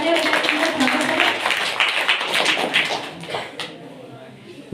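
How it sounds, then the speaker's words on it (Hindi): A school audience at a career day event claps for a welcomed speaker, dense broadband applause filling the room loudly and steadily before thinning out toward the end. "जोरदार तालियां बजाकर उनका स्वागत करें"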